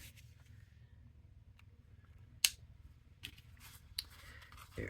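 Scissors cutting card around the layers of a camera shutter card template, giving a few quiet, scattered snips and rustles over a low background hum.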